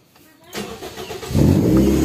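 A cold Toyota Vios engine starting: a short crank, then the engine catches and settles into a loud, steady, low idle close by, with a voice briefly over it.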